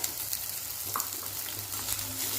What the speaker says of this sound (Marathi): आता कांदा लालसर होईपर्यंत छान भाजून घेऊया